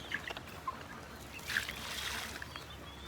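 Water is splashed over bricks being prepared for cement work at a construction site, giving faint, scattered splashes and trickles with a brief brighter spray in the middle, low and distant.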